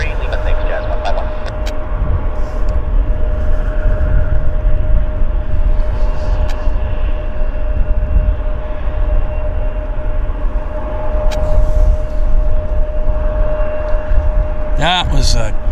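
An airplane arrives at Vancouver Airport with a loud, steady engine roar that holds throughout, heard from nearby, and a brief tonal sweep near the end.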